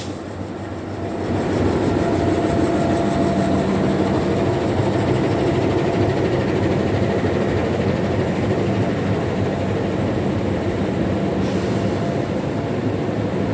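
A steady, loud rumble from inside the Ambarawa passenger train travelling from Pasar Turi to Tawang station, Semarang, wheels rolling continuously on the rails with a constant low drone.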